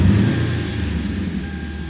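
A Lexus IS F V8 with a catback exhaust cruises along, giving a steady low engine drone and rumble, close and continuous with no talking.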